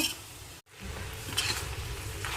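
Tomatoes fry and soften in a pan over low heat with a steady, close sizzle that drops out for a moment and then carries on evenly, with no talking.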